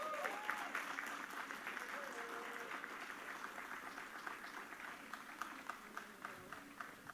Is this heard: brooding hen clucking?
no